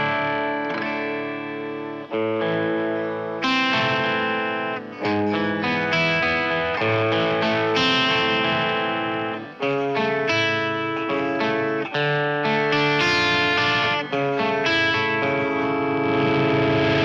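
Heavily distorted electric guitar played through a Marshall YJM100 100-watt head with the noise gate off, a continuous run of sustained notes and chords with chorus-like shimmer, loud and up close.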